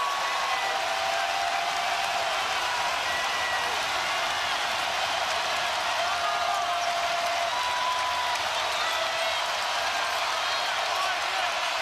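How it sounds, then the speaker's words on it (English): Dense roar of an arena crowd at a college basketball game between Auburn and Alabama, sustained and loud across the whole stretch, with a commentator talking over it. "And that's got the crowd fired up."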